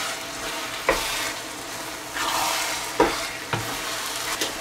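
Beef chili sauce with sesame seeds being stir-fried in a pan, a low sizzle broken by three or four distinct scraping strokes of a spatula spaced a second or two apart.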